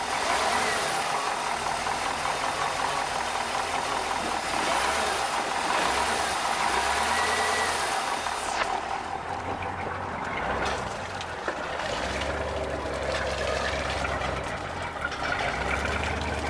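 A Mastercraft boat engine runs in forward gear, a steady mid-pitched drone that holds level throughout, with a brief shift in tone partway through and no voices over it.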